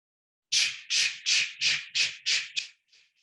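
A person does breathing exercise exhalations imitating a train's choo-choo: six quick rhythmic breathy puffs in an even chugging pattern, then a couple of fainter trailing puffs, close and alone.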